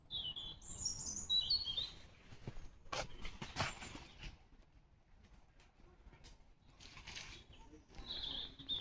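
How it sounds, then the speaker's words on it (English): Birds sing and chirp at Longstock Park water garden in the UK, with bright high calls in short bursts, some near and some farther off, mixed with soft dove-like cooing and a few handling noises. "I'll let you hear the sound of the birds."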